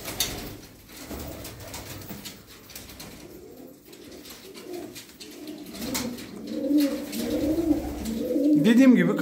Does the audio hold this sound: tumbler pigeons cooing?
yes